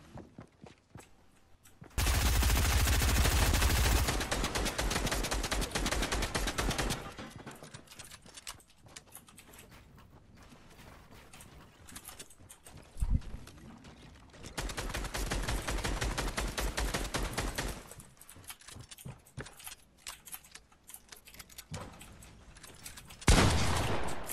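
Shotgun fire in the video game Fortnite comes in loud, dense bursts of shots, with quieter in-game sounds between the volleys.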